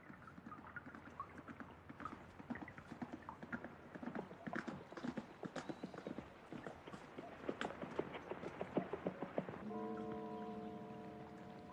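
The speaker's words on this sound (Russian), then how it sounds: "красивый очень звук лошади" Rhythmic clip-clop of horse hooves on a hard surface, steady and fairly close, continuing for several seconds before a low tonal hum takes over at the end.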